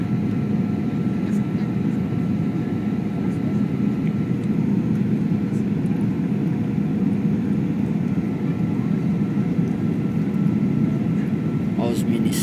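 Steady, loud airplane cabin roar during a landing approach into Brasília, a continuous low engine and airflow rumble filling the whole stretch with a slight rise near the end, with no clear voices over it.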